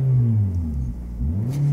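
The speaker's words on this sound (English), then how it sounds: "Give her a couple of revs." A Scion iQ car engine revs twice, swelling and falling back between throttle blips, close and loud with nobody talking.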